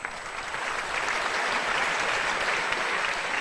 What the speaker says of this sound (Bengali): তাহলে আগে একটা রিহার্সেল হয়ে যাক, হাততালি দেন তো।